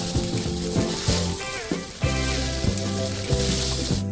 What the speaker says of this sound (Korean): 껍질 부분을 불판 바닥에 위치하게 구워주고요